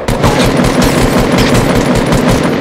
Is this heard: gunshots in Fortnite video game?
yes